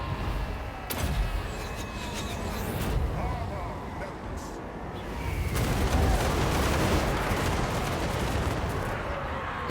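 Artillery bombardment in the Empire faction's siege battle in Total War Warhammer 2, heavy rumbling impacts and booms layered over constant battle din, with a louder burst midway, while someone talks over it.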